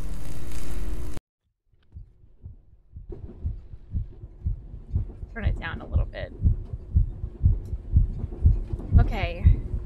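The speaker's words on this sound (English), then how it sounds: "is that my heart beating that loudly?" A loud, steady heartbeat pounds in The Ghost Train horror game, a regular low double thump continuing after a burst of noise cuts out, with someone briefly speaking over it.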